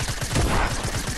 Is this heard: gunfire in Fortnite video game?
yes